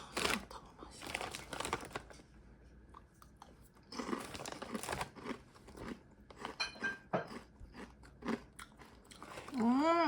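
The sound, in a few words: biting and crunching a crispy new snack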